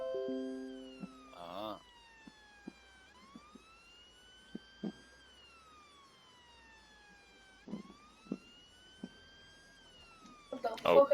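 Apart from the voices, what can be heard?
APC siren in a video game roleplay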